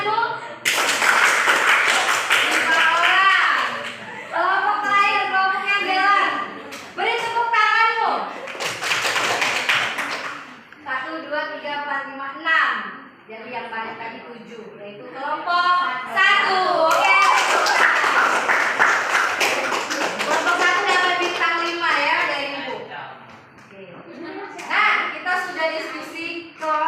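Classroom students clap together in short bursts, rhythmic group applause close by, alternating with children's voices and a teacher talking between rounds.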